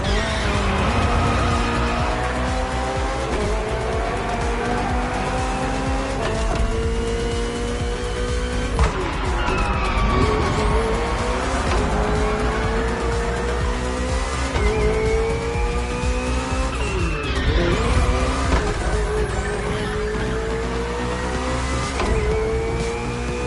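BMW Hybrid V8 race car engine in The Crew Motorfest, a loud continuous engine whine rising and falling through gear shifts, with tire squeal and skidding, close and dominant throughout.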